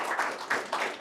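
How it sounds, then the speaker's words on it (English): Audience applause after a history lecture, heard as a short stretch of soft, fairly distant clapping that rises and falls in small waves. "he deserves another big applause"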